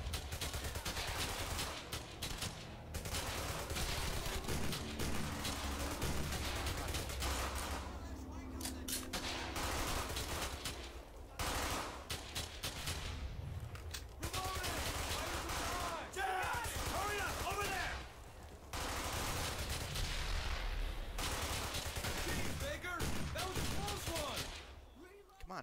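Bursts of rifle and machine-gun fire crackle through a World War II firefight in Brothers In Arms: Hell's Highway, loud volleys repeating with brief gaps, mixed with shouted voices and battlefield noise.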